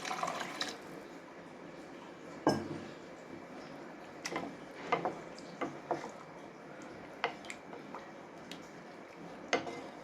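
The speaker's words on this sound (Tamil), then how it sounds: "ஊற்றிட்டு ஒரு டம்ளர் தண்ணி ஊற்றுங்க" Water pours and splashes into a pan of cauliflower curry, with scattered clicks and clinks of utensils against cookware over a low background hum.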